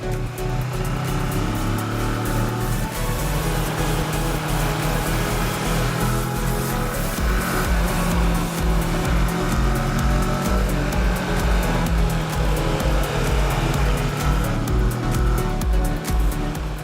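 A Kawasaki Versys motorcycle engine pulls steadily on a winding Oregon road, a continuous droning roar heavy with wind rush, loud and close throughout, rising gradually in pitch.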